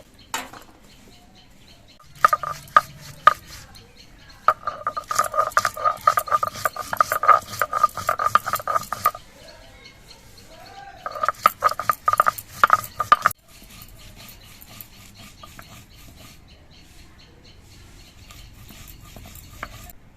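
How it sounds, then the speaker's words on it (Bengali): Green and dried chillies are ground together in rhythmic bursts of coarse scraping and knocking, loud and close, separated by quieter pauses. "প্রথমে আমি কাঁচা লঙ্কা আর শুকনো লঙ্কা একসঙ্গে বেটে নিচ্ছি"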